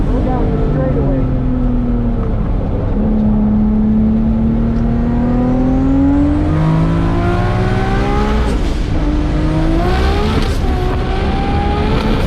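A race car engine roars loudly at a regional finals event, its pitch climbing and falling through repeated revs and gear changes as it charges down the straightaway, with voices talking over it.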